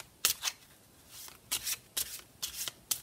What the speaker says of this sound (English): this is why I put those cards away